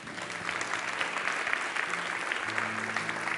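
A church congregation claps steadily at a worship service, a dense even patter of applause at moderate distance, with faint music tones underneath.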